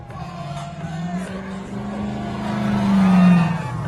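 A desert-racing trophy truck engine rumbles and revs in a deep, steady drone at Baja 1000 contingency day, swelling louder near the end amid faint background noise.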